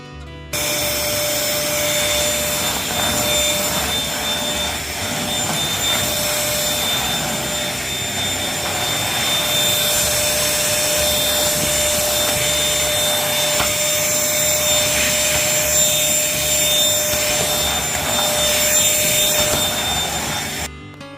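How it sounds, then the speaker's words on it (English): A Bissell 3-in-1 lightweight corded vacuum cleaner motor whines steadily and loudly for the whole stretch, with a constant high tone over a broad rushing roar and no talking. "I'm just going to let you guys hear the vacuum."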